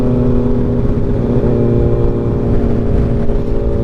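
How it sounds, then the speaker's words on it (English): Loud, steady rush of wind buffeting a motorcycle ridden into a dust storm, with the engine droning underneath; the roar stays constant and close throughout, with no talk. "The wind's picking up going this direction."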